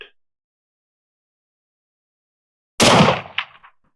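A single sharp, loud gunshot from a 7PRC rifle fired at a target on a range, cracking out of silence and decaying over about a second.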